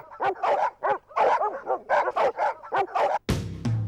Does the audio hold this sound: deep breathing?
no